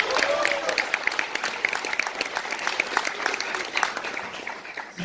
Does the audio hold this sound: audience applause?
yes